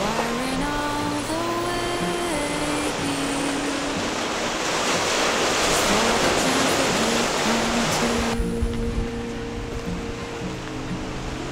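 Sea waves break on the East Sea coast near Yeongdeok's Haemaji Park, a loud, continuous surf roar that swells slightly, with a steady tonal hum running underneath.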